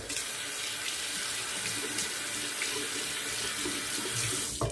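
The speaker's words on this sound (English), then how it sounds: "let me rinse this hand off." A running water tap pours steadily while a hand is rinsed beneath it, giving a close, continuous splash and gush with small changes in the flow.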